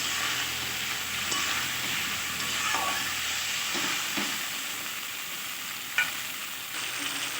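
Cashew paste thinned with water is stirred into a simmering curry, producing a steady hiss and bubbling sizzle with soft spoon scrapes and one sharp knock near the end.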